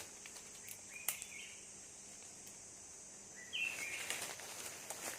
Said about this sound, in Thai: โอ้เสียงนก